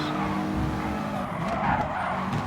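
In Gran Turismo Sport, race cars at Fuji International Speedway skid loudly, tires scrubbing over a roaring engine as a GTR slides off track. The sound is close, continuous and dense, with no speech.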